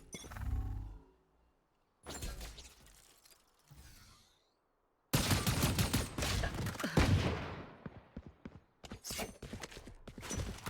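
In a Valorant match, gunfire arrives in separate bursts split by silences: a heavy low shot, then sharp cracks, then a long loud volley followed by a rapid string of short, snappy shots near the end.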